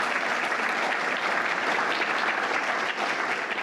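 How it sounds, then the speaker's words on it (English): A steady round of audience applause at a lab's anniversary celebration, continuous dense clapping filling the room evenly without pause. "And let's give her one more round of applause."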